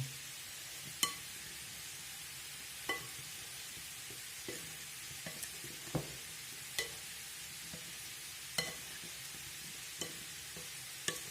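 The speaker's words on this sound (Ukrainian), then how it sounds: "А тепер візьму тут все і легенько перемішаю" Potatoes frying in oil are stirred gently, with a soft, low background sizzle and regular light scrapes and clinks of the utensil every second or two, with no talking.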